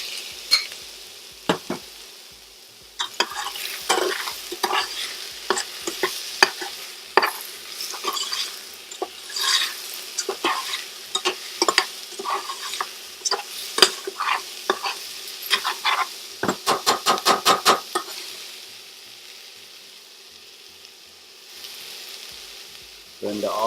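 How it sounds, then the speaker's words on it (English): Mushrooms stir-frying in a pan for vegan lentil soup, a steady sizzle broken by repeated scraping stirs and clacks of a utensil, with a quick run of rapid taps near the end and the frying fading quieter at the close. "And we're going to stir it. Now to this we're going to add the mushrooms."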